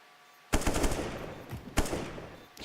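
Automatic gunfire in Counter-Strike: Global Offensive during an esports match, loud sharp bursts of rapid shots arriving in two or three clustered volleys, close and with no commentary over them.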